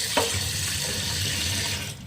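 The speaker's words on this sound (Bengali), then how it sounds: "নামিয়ে এটাকে আমি আরেকটু ঠান্ডা জল দিয়ে ভালো করে ধুয়ে নেব।" Cold running water splashes steadily over boiled taro leaves in a basket, a continuous close hiss with a short clatter at the start before the flow fades out.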